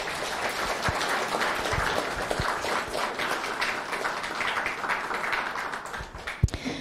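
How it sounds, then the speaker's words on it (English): An audience at a live-streamed evening session breaks into sustained applause, a dense, even wash of many hands clapping with no break, ending with one louder clap near the close. "please join me with a round of applause"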